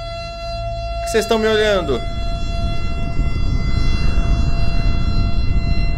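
A siren wails in the video game Island Mistery, a brief rising-and-falling tone over steady game background hum, while someone talks during and after it.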